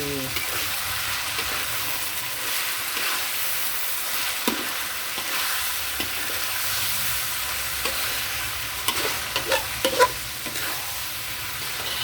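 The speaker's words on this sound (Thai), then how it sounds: "เสร็จแล้วเราก็ใส่ใบกะเพราแล้วก็ใบมะกรูด" Catfish stir-fried with basil and kaffir lime leaves in a spicy Thai stir-fry with pickled bamboo shoots, a constant close sizzle broken by spatula scrapes and clacks.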